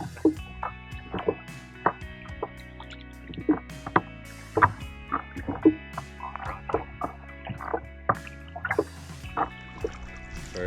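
A kayak paddled on a long open-water crossing, with repeated splashing and dripping paddle strokes at an uneven rhythm over a low steady background hum, close and alone.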